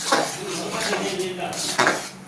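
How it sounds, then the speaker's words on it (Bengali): A spoon stirs thick chachi naru mixture of coconut and jaggery in a pan, giving close, scraping strokes and a couple of sharper knocks against the metal, while a voice talks over the stirring. "দেখো এখনো কিন্তু হয়নি, এখনো নাড়াচাড়া করছি।"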